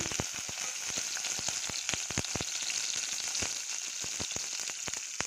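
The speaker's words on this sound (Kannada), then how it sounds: "1 ಟೊಮೊಟೊ, 1 ಸಣ್ಣ ಈರುಳ್ಳಿ, 1 4-5 ಹೆಸರು ಬೆಳ್ಳುಳ್ಳಿ ಇದನ್ನು ಹಾಕ್ಬಿಟ್ಟು ಬಾಡಿಸ್ಕೊಳ್ಳೋಣ" Tomato, a small onion and a few garlic cloves sautéing in two spoons of oil in a pot, a bright steady sizzle punctuated by rapid crackling pops throughout, close and alone.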